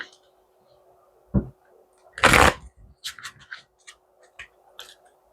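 Tarot cards are shuffled in a sharp riffle, followed by several short flicks and taps as they are handled up close.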